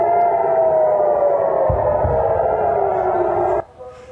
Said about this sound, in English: Sirens warning of incoming rocket fire have been set off in southern Israel